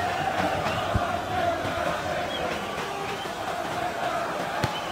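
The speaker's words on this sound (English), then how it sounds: "The crowd are jeering the player." Crowd noise in the soccer video game Ultimate Draft Soccer, a continuous stadium roar with swelling jeers and chants, with a few brief thumps along the way.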